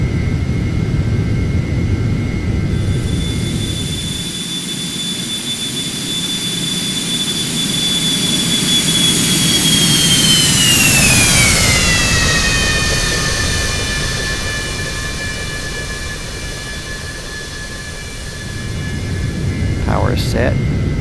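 Steady roar of Embraer Phenom 300 jet engines in the Carenado flight simulator as power is added, a loud broadband rumble with a high whine that slides downward midway and then settles, continuous throughout.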